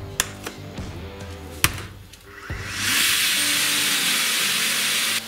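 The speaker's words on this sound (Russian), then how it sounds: "Включил пылесос." A household vacuum cleaner switches on in a workshop after a few sharp knocks and clatters, its broadband whooshing roar building and then holding steady, loud and close, for the remaining seconds.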